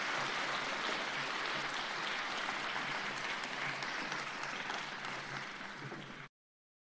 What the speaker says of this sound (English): How about a round of applause for our Vikettles basketball team,